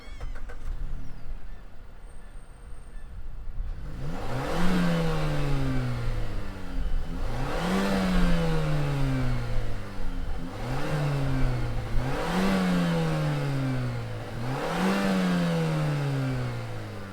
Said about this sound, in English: let's fire up what we have now and hear what it sounds like